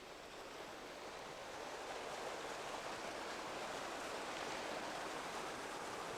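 Water from a mountain torrent rushes continuously in a soft, even roar, with no pauses or other sounds on top of it.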